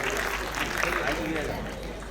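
An audience applauds at a civic cleanliness award ceremony in Bhavnagar, a dense, sustained wash of clapping that holds steady at moderate loudness for the whole stretch.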